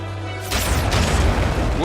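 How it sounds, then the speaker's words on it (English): A heavy artillery boom in the strategy game Codex of Victory cuts in after a steady low hum, followed by a rumbling roar of distant blasts and a sharp high crack. "Let's start calling in some artillery pieces then."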